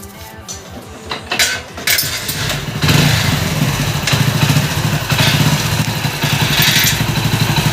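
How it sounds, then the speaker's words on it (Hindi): A Hero Splendor Plus motorcycle engine, leaking oil from the head, cranks and catches, then settles into a loud, steady rumbling idle close by, with some metallic clinks early on. "अब इस बाइक को स्टार्ट करते हैं"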